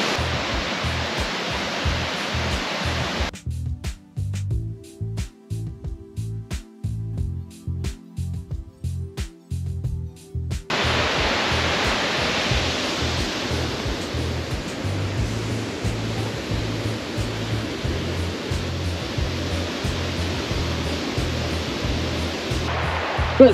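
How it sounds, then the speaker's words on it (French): Cascade du Dard waterfall on the Nozon river, a continuous loud rushing roar of falling water heard close up, interrupted midway by a stretch of clicking handling noise before the steady roar resumes. "nous sommes donc à la cascade du Dard"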